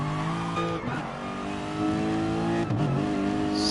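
A Corvette race car in a GT3 racing video game, its engine revving hard with rising and falling pitch as it passes, loud and close, with brief shifts in tone.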